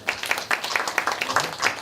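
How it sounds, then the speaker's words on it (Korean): A modest audience at a social workers' association election debate applauds two sign language interpreters, a brief patter of scattered claps at moderate volume. "박수 부탁드리겠습니다."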